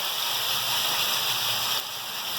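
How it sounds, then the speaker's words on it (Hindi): A little water is poured onto spices frying for nalli maghaz nihari, and a loud, steady rushing hiss fills the clip before it drops suddenly near the end. "और थोड़ा सा पानी भी डालेंगे"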